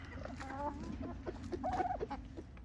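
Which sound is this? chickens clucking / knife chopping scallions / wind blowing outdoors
chickens clucking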